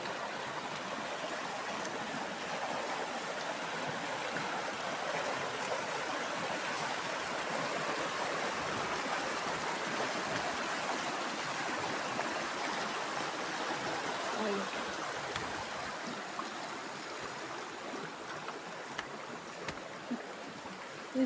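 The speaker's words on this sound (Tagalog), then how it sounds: "Malalim ang agos ng tubig" Deep river water flows steadily outdoors, a loud continuous rushing and gurgling wash that stays constant throughout with no break.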